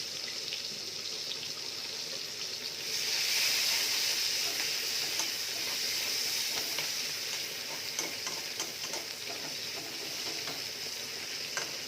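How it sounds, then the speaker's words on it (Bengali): Chopped onions hit hot oil for a rohu fish and sweet drumstick-stem curry and set off a steady, close sizzle that swells after a few seconds, then keeps hissing evenly with no talking. "তেলটা গরম হয়ে গিয়েছে, এবার আমরা পেঁয়াজ কুচি দিয়ে দিলাম"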